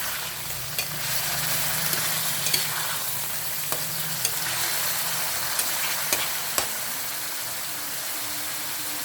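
Chicken liver frying for adobo in a pan, stirred steadily through a continuous loud sizzle, with scattered sharp scrapes and clicks of the utensil against the pan.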